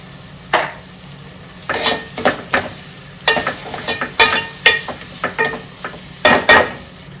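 Green chillies and curry leaves frying in hot oil for a Nellore-style fish curry, a steady close sizzle broken by repeated sharp clinks and scrapes of a spoon stirring against the pan.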